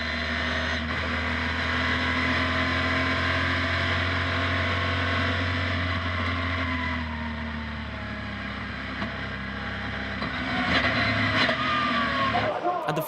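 Onboard a NASCAR Europe race car at a restart, the engine drones steadily and loud with a low rumble, pitch shifting through gear changes and rising again near the end over wind and road noise.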